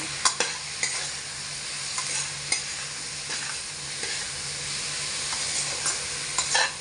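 Spice paste with turmeric and cumin powder fries in a pan, a continuous close sizzle broken by repeated scraping and clicking strokes of a spoon as it is stirred.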